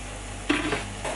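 Tofu goes into hot oil in a pan, giving a brief sizzle and a scrape of stirring after a quiet start, then a second short burst of frying.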